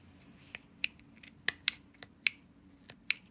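Scissors snip through crochet yarn in a run of about eight sharp, close clicks at uneven intervals over a low, quiet background, with no voices.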